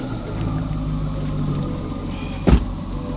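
Twin-turbo C8 Corvette ZR1 convertible pulling away, a low steady engine rumble with a brief sharp burst near the end, heard close and without talk.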